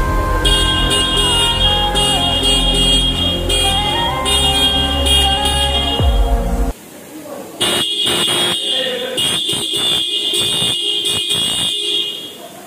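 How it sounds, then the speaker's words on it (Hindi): Loud, steady two-tone dual horn on a TVS Raider 125 motorcycle blaring for several seconds, then repeated short honks in quick bursts, close and harsh. "अपाची वाला जो साउंड है वो आ गया है यहाँ पे डुअल हॉर्न होने के बाद"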